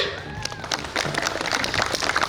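An audience at a gathering claps briefly in scattered, uneven applause that sounds lively and close, with a voice speaking faintly at the start.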